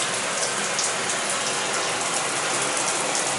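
Water gushes at high pressure from a bathtub and shower tap, a steady, bright hiss and splash that runs unbroken from start to finish.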